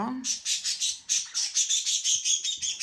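Pet birds squawking close by in a fast run of sharp, shrill calls, about a dozen bursts in quick rhythm without a break.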